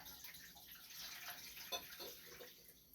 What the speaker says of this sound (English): I'll put the water in there.